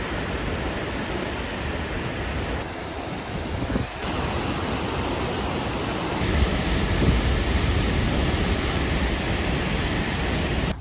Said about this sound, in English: and now we're seeing the waterfalls